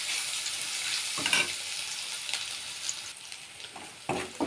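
Green chillies frying in hot oil with ginger garlic paste for chilli chicken: a soft, steady crackling sizzle with a few brief stirring scrapes, moderately quiet and continuous.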